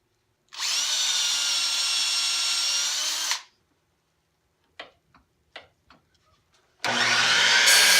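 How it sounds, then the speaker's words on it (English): A drill press motor runs loud and steady for about three seconds, then winds down. A few separate clicks and knocks follow before the motor starts up loudly again. "I forgot I had a drill press."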